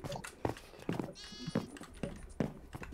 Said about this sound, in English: Why, there's literally a llama.